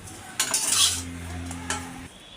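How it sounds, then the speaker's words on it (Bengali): Two slices of bread frying in oil in a home kitchen pan, with a short burst of hissing sizzle and some utensil clatter over a steady low hum, close and moderately loud, no talking. "এখানে দুইটা রুটি ছিল, ভেজে নিচ্ছি।"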